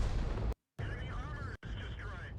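Heavy artillery booms from an Object 261 self-propelled gun in a World of Tanks battle, loud rumbling blasts broken by brief silent gaps, with a voice audible faintly in the mix.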